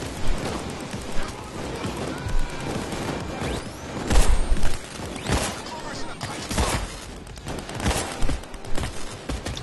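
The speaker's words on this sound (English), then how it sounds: "Who is shooting at me?" Sniper gunfire and other shots crack out in the heist shooter Payday 2, with repeated sharp reports and booms scattered over busy game noise while people talk.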